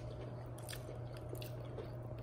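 Couscous with chickpeas being chewed close to the mouth, a soft, continuous wet mashing with faint squishy bites over a steady low hum, no talking.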